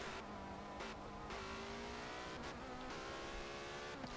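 A Porsche 918 Spyder hybrid hypercar engine in the Forza Motorsport 7 racing game, heard close and steady as the revs climb and drop through several gear changes, with bursts of broadband roar between shifts.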